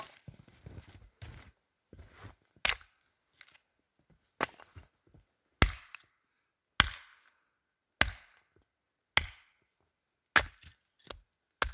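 An axe splits wood for a campfire outdoors in the mountains, about a dozen sharp, separate chopping impacts at irregular intervals, each a crisp crack with a short splintering tail and quiet pauses between.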